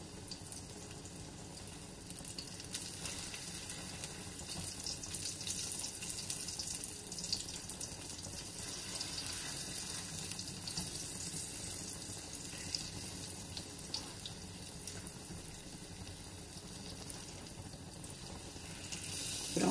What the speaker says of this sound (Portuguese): eu vou fritar agora isso devagarinho, em lume branco